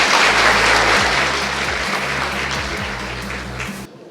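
A crowd applauds a speaker at a corporate talk on moving from fleet management to mobility management, with dense, steady clapping and a low hum underneath, fading slightly before cutting off near the end.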